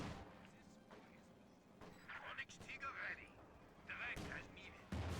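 A Sherman tank fires high explosive rounds in the strategy game Company of Heroes 2, with booming shots and impacts mixed into ongoing battle noise at moderate loudness.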